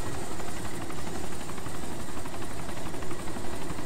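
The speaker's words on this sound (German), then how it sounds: "Versucht die Mi hier jetzt irgendwo zu landen." A Mil Mi helicopter in the video game DayZ Epoch on the Chernarus map: rotor and engine drone on steadily and loudly, with a faint rhythmic chop underneath the wash of noise.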